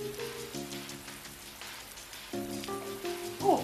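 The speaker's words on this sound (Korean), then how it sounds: "갑자기 비가 오네." Rain falls in a steady patter that runs throughout the clip, while music with sustained tones plays over it.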